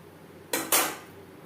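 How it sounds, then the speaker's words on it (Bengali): A spoon knocks twice against a pot while potato chicken curry is mixed with spiced water and gravy. The two quick, bright metallic clanks come close together and are heard alone against quiet background. "গ্রেভির সাথে আলু চিকেন বেশ ভালো করে মিক্সড করে দেব"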